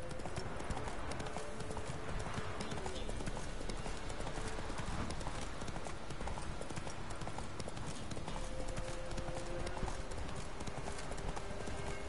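Horse hooves clip-clop in a steady, brisk rhythm from a mount in The Witcher 3 video game, set against a dense, busy game soundscape with occasional faint neighing.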